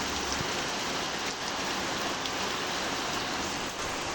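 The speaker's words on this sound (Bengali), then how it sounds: "এই দেখুন কীরকম বৃষ্টিটা হচ্ছে জোরে" Heavy rain pours down in a dense, steady roar of drops on surfaces, loud and close throughout with no voices.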